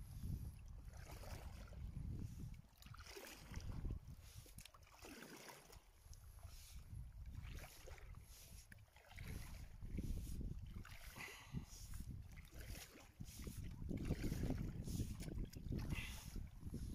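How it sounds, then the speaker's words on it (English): Paddling a small boat along a canal on a calm day, with soft rhythmic water strokes and splashes repeating over wind noise, quiet and close. "Paddling."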